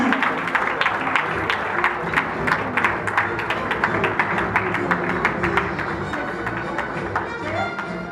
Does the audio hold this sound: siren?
no